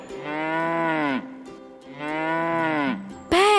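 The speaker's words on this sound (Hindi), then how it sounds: "गाय" A domestic cow lets out two long, loud, resonant moos close by, each lasting about a second with a short pause between them.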